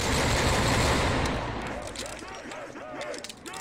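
Loud burst of rapid automatic gunfire from a tank gun in a video game static test, dense and sustained for over a second before thinning into scattered shots and rattles, with a voice talking faintly underneath.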